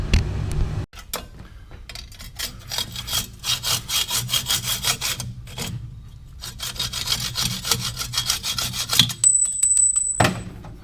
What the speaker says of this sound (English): I think I'm gonna finish with the hacksaw,